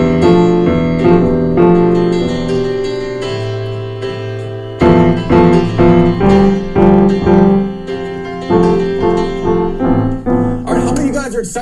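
Piano working through the same four chords in a different, busier rhythmic pattern, close and loud, with a bright flourish in the final second and no voice.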